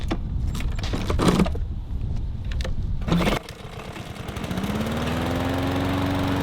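A Honda HRR216 lawn mower with a manual choke and a cleaned carburetor is pull-started once, with close rattling and clanking of the cord before the engine catches and settles into a loud, steady running drone below full speed.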